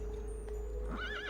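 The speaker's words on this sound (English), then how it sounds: "that horse is just having a fit with the mercenaries" A horse in the Assassin's Creed 2 video game lets out a loud, wavering neigh in the final half second, over a steady low game hum.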